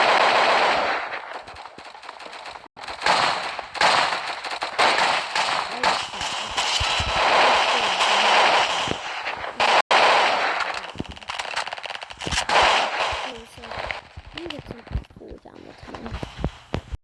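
A sakura shotgun fires in the online game Flag Wars: repeated loud, punchy gunshot bursts in irregular clusters, mixed with game effects and a voice talking over the action.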